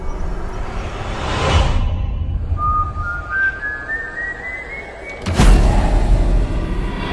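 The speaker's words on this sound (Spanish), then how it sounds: "No habla, solo silba." A thin rising whistle sliding upward in steps over a dense rumbling, windy background, followed by a sudden loud boom-like burst.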